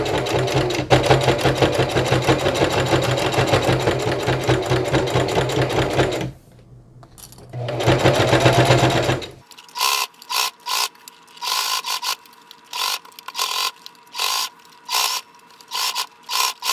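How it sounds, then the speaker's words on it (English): A sewing machine stitches a denim patchwork bucket hat in a loud, rapid mechanical whir, pauses briefly, whirs again, then runs in shorter bursts with clicks and rattles as the fabric is turned, close and without voices. "Now it's time to sew all around here."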